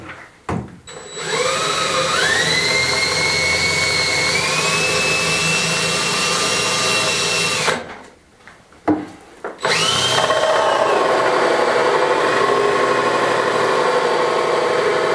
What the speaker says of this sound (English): When your hole cutter is not deep enough to go all the way through, you need to clear out a bit of it at a time